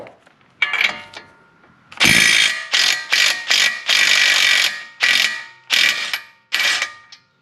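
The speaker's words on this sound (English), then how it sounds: "you can put a wrench on it and hold this while you spin this off." Ratchet wrench spinning a nut off a tie rod end during a Lincoln MKZ transaxle replacement, a series of loud, close ratcheting bursts in quick succession, each clicking run stopping abruptly, with no talk.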